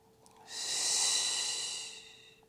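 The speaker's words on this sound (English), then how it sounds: "Breathing in through the nose and out through the mouth." Someone doing a mat Pilates stretch takes one long, steady breath, an airy hiss that swells and fades over about a second and a half, close and alone.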